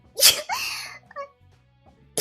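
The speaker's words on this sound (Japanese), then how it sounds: "くしゃみ出ました。" A person sneezes loudly up close in a sharp, explosive burst, followed by a second smaller sneeze-like sound and faint breaths afterward.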